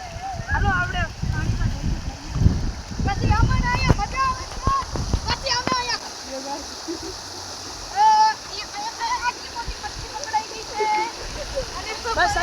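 Floodwater surges through a village after heavy rain, a broad continuous rushing wash heard at a middle distance, with people talking over it for much of the time.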